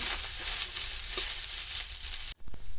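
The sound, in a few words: field beans (avarekalu) roasting in oil on low flame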